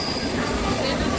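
Train noise from a passing train, a steady broad rumble with a faint high squeal running throughout, close and fairly loud with no clear breaks.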